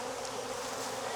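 A honey bee buzzes inside a beekeeper's veil during hive work in Jacksonville, Florida, a close, continuous, steady drone with no voices.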